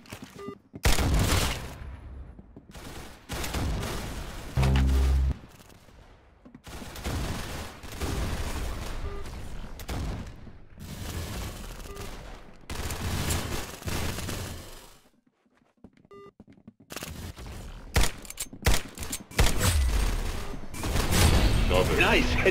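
Bursts of gunfire in the Roblox game Arsenal come in rapid fusillades separated by brief pauses, loud and close, with some sound-effect clatter and a voice talking over parts of the action.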